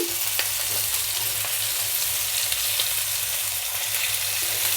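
Fish fries in a pan, giving a dense, continuous sizzle with a steady low hum beneath it. It sounds close and strong, with no talking over it.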